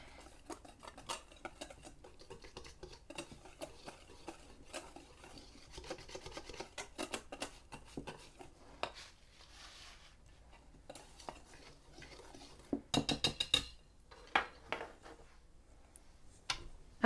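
A whisk running through a dry flour mixture in a bowl for gingerbread and sugar cookies gives quiet, rapid scraping and ticking strokes, with a louder burst of fast whisking near the end and no voices.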